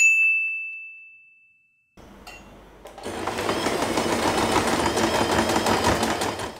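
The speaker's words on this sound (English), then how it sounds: "and sew this part." A sewing machine stitching the center of a fabric hair bow: a bright ding fades out, a short silence follows, then a steady mechanical whir runs continuously at moderate loudness.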